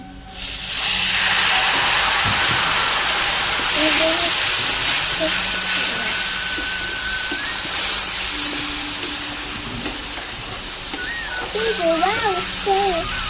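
Onions and spices in a pan burst into a loud, hissing sizzle the moment water is splashed in while cooking a Bhola fish curry village-style; the steamy crackle carries on throughout as a person talks over it.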